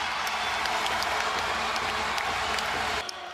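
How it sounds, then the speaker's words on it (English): A large basketball arena crowd at Coleman Coliseum in Tuscaloosa roars and cheers during a Mizzou timeout in a game tied late. The dense, sustained noise runs at steady loudness, then drops slightly near the end. "And listen to this crowd"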